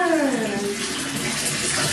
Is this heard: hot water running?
yes